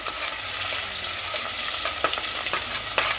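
Chopped onion pieces frying in oil for mutton curry, a loud, even sizzle with light crackles and a few soft stirring scrapes, close up with no voices.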